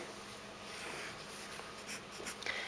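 Pencil drawing on a horizontally oriented sheet of paper while sketching a still life with a square bottle; soft continuous scratchy strokes, close and fairly quiet, with a few brighter scrapes toward the end.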